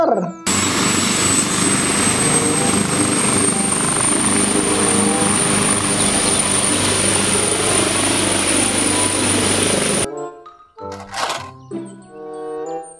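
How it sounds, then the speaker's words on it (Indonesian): A helicopter roars steadily and loudly for about ten seconds, a high whine riding over the rotor noise, then cuts off abruptly to quieter shuffling sounds. "Helikopter"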